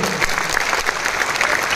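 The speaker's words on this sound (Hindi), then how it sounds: "अपने लिए ही एक बार जोरदार तालियां बजा दीजिए आप लोग।" An audience at a health talk claps loudly and energetically, a short, dense burst of applause with rhythmic pulses and no speech over it.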